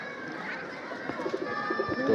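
Pigeons coo in a loft of sky pigeons kept for racing tournaments, soft repeated throaty calls layered close together, with a voice murmuring faintly in the background.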